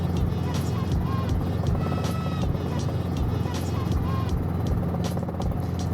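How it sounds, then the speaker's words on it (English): A Robinson R22 helicopter drones loudly and steadily over Alaska, its rotor blades slapping in a regular rhythmic beat through the constant engine roar. "I will never get over that amazing blade slap sound."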